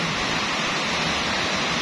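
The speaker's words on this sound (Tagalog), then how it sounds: "ang lakas na naman ng ulan" A dense, steady broadband wash of heavy rain in Metro Manila, loud and unbroken throughout, with no voices.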